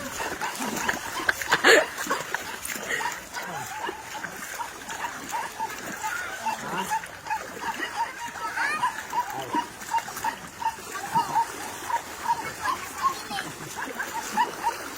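A dog whimpers and yips in a rural hillside farm setting, with faint wet splashing and rustling around it and a person speaking intermittently nearby.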